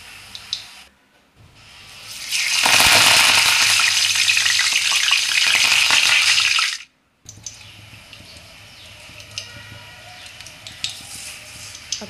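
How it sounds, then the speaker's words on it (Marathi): Chivda ingredients fry loudly in hot oil, a dense roaring sizzle that swells after a quiet start, cuts out briefly, then returns as a softer crackle with scattered pops. "त्यासाठी लागणारं सगळं साहित्य मी आता एक तळून घेते"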